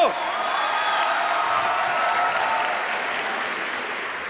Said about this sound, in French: Monsieur Seb, on l'applaudit, il nous rejoint en tant qu'Avenger du jeu vidéo